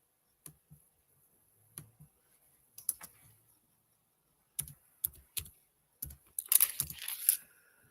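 Keys are typed on a computer keyboard in short, scattered clusters of clicks with pauses between them, ending in a faster, denser burst; close and moderately quiet.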